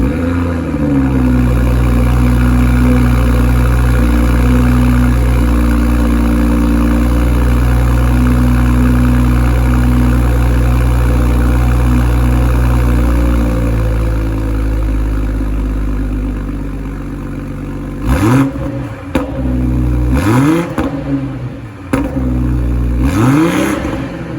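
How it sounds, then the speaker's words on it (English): A 2021 BMW X3 M40i's B58 six-cylinder engine cranks, settles into a steady idle, then revs up several times in quick rising and falling bursts. "let's do an engine startup for you and show you what that is"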